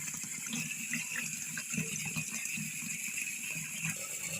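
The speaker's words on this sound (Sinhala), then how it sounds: "ඊළඟට මම මේ විදිහට මේකට වතුර ටිකක් පුරව ගන්නවා." Water pours steadily into a glass fish bowl being filled for cleaning, a continuous close splashing and gurgling rush with no voices.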